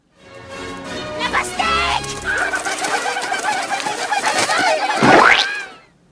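A pigeon-like bird coos, presented as a dodo, a loud, close, warbling call that swells over several seconds with a rising sweep near the end.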